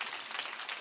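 The audience at a kirtan gives a short round of steady, moderately distant clapping honouring the organisers and volunteers.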